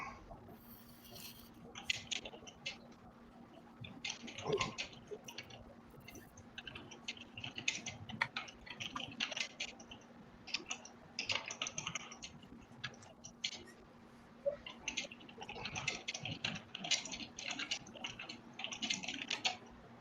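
Computer keyboard typing during a live comics sketch stream, a quiet, steady patter of small clicks running throughout with occasional louder taps, faint and somewhat distant.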